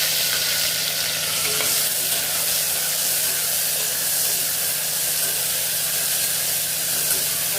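Coriander and mint leaves frying in a pan with lightly fried cloves give a loud, dense, continuous sizzle and hiss that stays close and steady throughout, with no voices.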